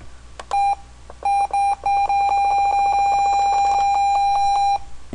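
A loud electronic tone beeps repeatedly, a couple of separate beeps followed by a long rapid run of identical bleeps, with no speech.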